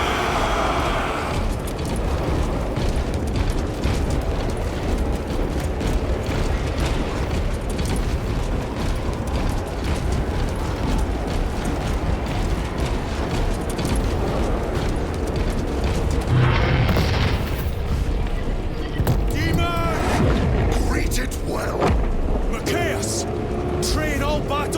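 Battle in the video game Warhammer 40,000 Space Marine 2, with dense, continuous gunfire and rumbling explosions filling the scene, loud and unbroken, with voices shouting orders over the din.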